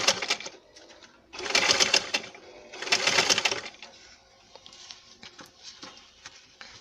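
A sewing machine stitching elastic into the waistband of palazzo pants runs in two loud bursts of rapid stitching, with quieter intermittent stitching and handling around them.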